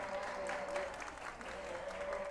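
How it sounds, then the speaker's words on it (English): Spectators at a sea lion keeper talk give a short round of clapping, faint and distant, with a thin whistle-like tone running through it. "Everybody give Maggie a big round of applause"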